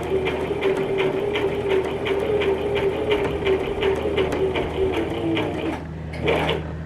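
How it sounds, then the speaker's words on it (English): A sewing machine runs continuously through fabric at a steady rhythmic clatter with a whining motor hum, then stops near the end, leaving a brief quieter tail. "we're just going to sew"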